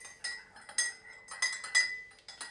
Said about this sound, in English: First of all, I'm gonna mix in the sugar that I put in.